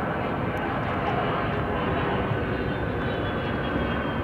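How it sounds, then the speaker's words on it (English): An airplane passes low overhead above a river, sending a loud, steady engine roar that holds for the whole stretch with no voices over it. "there's another plane. Buzz my head."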